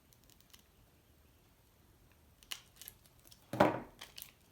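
Scissors snip through a small handmade mini purse in a quiet room. A few faint, short cuts are followed by one louder, crisp snip near the end.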